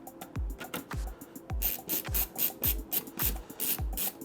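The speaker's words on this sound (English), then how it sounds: "grab my screwdriver." A screwdriver turns screws into a WD My Cloud PR2100 network storage unit, a steady run of close ratcheting rasps and scrapes repeating roughly every half second, each ending in a low thunk.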